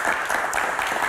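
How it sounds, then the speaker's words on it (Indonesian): University students in a talk show studio audience applaud, giving a steady, even wash of many hands clapping throughout, moderately loud and without pauses. "Terima kasih, tepuk tangan dong."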